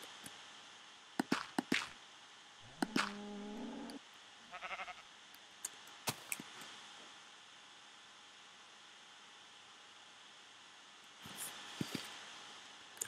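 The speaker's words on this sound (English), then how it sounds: "Wait, where's that sheep? Oh god, sheep, you just hate me" A sheep bleats once in the Minecraft Sky Survival game, a short wavering cry over a quiet background hum, scattered among a few soft clicks and game sound effects.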